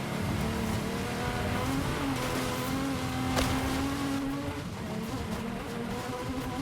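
A Ferrari race car's engine in a video game race gives off a steady, loud, droning hum under load with a slowly changing pitch, while tire noise runs along underneath. No one talks.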